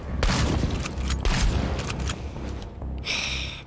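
Repeated shotgun blasts and gunfire from the video game Chernobylite, loud bursts scattered through dense in-game noise, ending with a brief high electronic tone.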